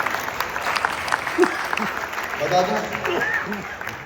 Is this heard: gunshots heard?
no